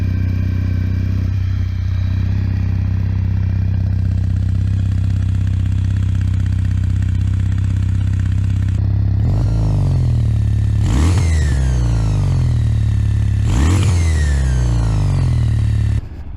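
A twin-cylinder motorcycle engine idles steadily and close by, then is revved sharply three times, each burst rising and falling back to idle.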